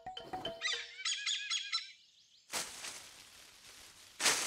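A crow mimics a hornbill call with a short run of bright, repeated chirping notes, moderately faint, framed by bursts of broadband rustling noise.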